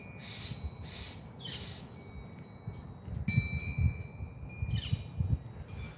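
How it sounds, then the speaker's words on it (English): Harsh, raspy Steller's jay squawks repeat several times at moderate distance over rustling and low outdoor background noise. "That squawking noise you just heard was a stellar jay."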